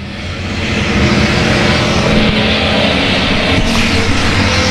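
Race cars roar around a track at a stock car race, a dense, steady engine drone with cars passing close by, loud and continuous throughout.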